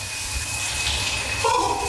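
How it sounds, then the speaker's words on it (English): Shower water running steadily after the control dial is turned to cold, a continuous hiss and splash close by with a slight shift in tone toward the end, no talk. "Now I'm just going to turn this dial here, and it should change the water to cold."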